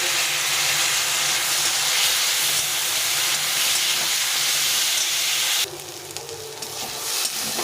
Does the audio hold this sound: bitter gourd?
yes